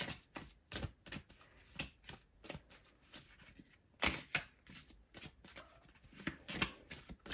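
A deck of tarot cards is shuffled by hand in a quiet room, giving repeated crisp riffling bursts and soft slaps in an uneven rhythm, close and clear with no talking.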